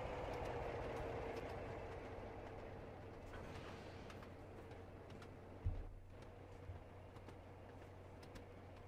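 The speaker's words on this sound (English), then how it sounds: "There's a train." A video game train on a single-track line in Trainz Simulator 3 rumbles past with a steady low drone and faint clicking, with a brief thump partway through.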